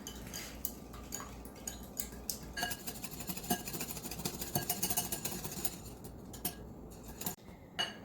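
Sugar, cornstarch and vanilla get mixed in a small bowl, with rapid clinking and scraping of a utensil against the bowl in an uneven rhythm, close and fairly quiet.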